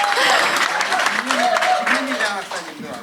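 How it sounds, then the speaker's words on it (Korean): An audience applauds a school principal at a book concert, with steady, dense clapping throughout and voices speaking over it. "우리 교장 선생님께도 응원의 박수 한번 부탁드리겠습니다"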